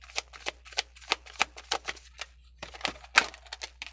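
Tarot cards being shuffled by hand, close and fairly quiet, a rapid run of crisp papery riffles and snaps in an uneven rhythm with a brief pause midway.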